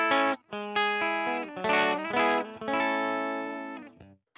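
Clean electric guitar tone through a Headrush Core modeler, a series of sustained chords and ringing notes with brief gaps between phrases, played alone with no talking.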